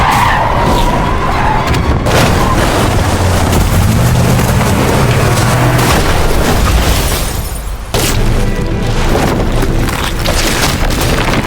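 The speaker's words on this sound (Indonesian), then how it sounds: "Sementara mobil mereka masuk ke dalam hutan dan hampir saja jatuh ke dalam jurang." A car skids off the road into a forest, nearly going over a ravine, in a tense film scene: loud sustained tire skidding with heavy rumbling crashes and booms, a brief dip near the end, then the roar resumes.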